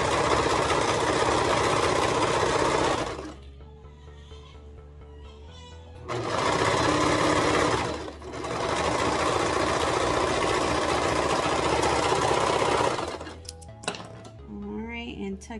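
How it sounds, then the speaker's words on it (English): A serger sewing machine runs in two long loud bursts while overlocking the curved edge of a racerback hoodie, with a steady mechanical whir, quiet pauses between runs and brief handling noises at the end. "I'm just serging around the round part here."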